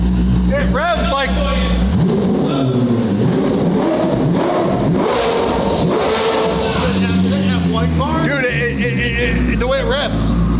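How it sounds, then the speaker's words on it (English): A Koenigsegg Jesko hypercar engine, flywheel-less, revving up and dropping quickly in sharp sweeping bursts, loud and close, with excited voices talking over it. "Dude, the way it revs."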